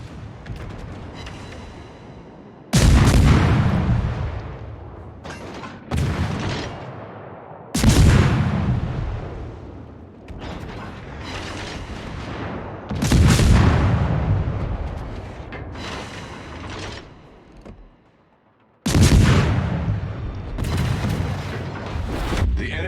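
Enemy warship naval guns firing in World of Warships: several heavy, booming salvos a few seconds apart. Each blast hits hard and rumbles away into a long decaying roar.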